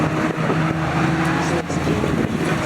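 Race cars, Citroën Saxos and a Ford Fiesta, dice closely around the Knockhill circuit, their engines droning in a steady loud whine with brief shifts in pitch as they pass.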